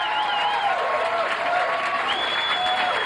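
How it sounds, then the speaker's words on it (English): Steady audience applause for a stand-up comedian taking the stage at a Sacramento comedy club, dense and sustained throughout with some cheering and whistles riding over it. "How about a nice round of applause?"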